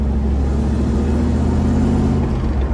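A 1982 Camaro Z28 with a swapped-in five-speed gearbox cruises in third gear, its engine giving a loud, close, constant low rumble from start to finish.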